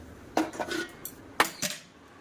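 Boiled taro tipped from a pot into a basket to drain, heard as a few close clattering knocks and scrapes of metal and utensils in two short bursts, with no voices.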